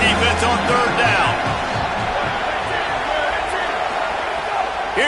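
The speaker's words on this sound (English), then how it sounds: "Decibels rising as the crowd gets behind this defense on third down." A stadium crowd roars steadily through a third-down defensive stand in a college football video game, a dense continuous wash of cheering with a commentator's voice talking over it.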